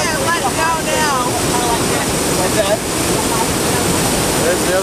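River rapids rushing loudly and steadily while rafting on the Rogue River, a dense continuous roar of churning water close by with faint voices beneath it.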